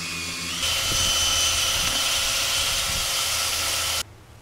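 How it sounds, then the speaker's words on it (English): Cordless drill mixer stirring paint in a can, a whine that jumps up in pitch and loudness as it speeds up, runs steadily with slight sloshing, then cuts off abruptly. "Go to the drill mixer."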